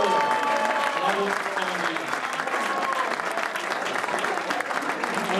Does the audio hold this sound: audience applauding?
yes